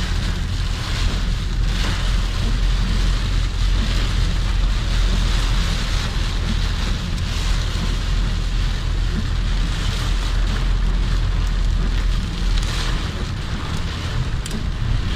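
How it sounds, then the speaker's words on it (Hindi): Heavy rain during a storm in Jazan, Saudi Arabia, a loud, steady, dense roar of downpour and wind buffeting that holds throughout, with no talk. "उम्मीद है आपको बारिश के नज़ारा पसंद आया होगा"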